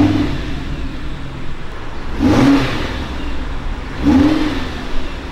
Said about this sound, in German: Wir starten jetzt mal den Motor